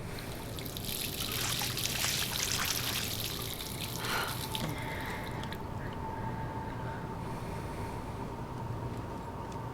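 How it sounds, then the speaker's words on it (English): Water runs from a faucet as a steady splashing trickle, close up, louder in the first half and then easing to a quieter flow with a faint tonal hum, no talking. "Let's just go ahead and use the faucet."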